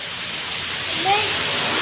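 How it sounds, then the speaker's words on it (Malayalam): Heavy rain pours with strong wind in a steady, loud hiss, and a voice briefly cuts through near the end. "നല്ല കാറ്റും മഴയും കാണുന്നുണ്ടോ?"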